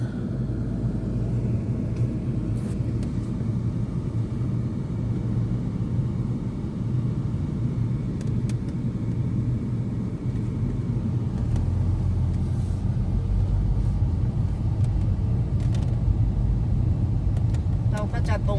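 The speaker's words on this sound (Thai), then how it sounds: "เป็นการขับรถชมเมืองร้อยเอ็ดนะคะ" A car drives through the city streets of Roi Et, Thailand, with a loud continuous engine and road rumble throughout and faint passing noises on top.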